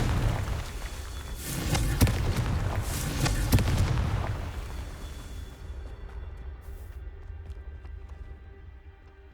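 Confringo fire spell in Hogwarts Legacy, a string of loud fiery blasts and booms over the first four seconds that settle into a fading rumble and crackle.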